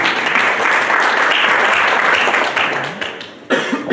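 An audience at a social media summit in a Crowne Plaza hotel conference room claps in a full, steady round that thins out toward the end before a few final claps and a brief noise.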